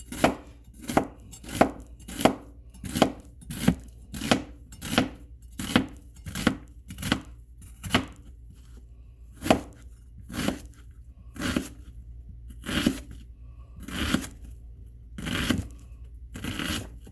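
A kitchen knife chops an onion on a cutting board, sharp crisp thunks in a steady, fairly quick rhythm, about twenty close cuts with short pauses, no talking.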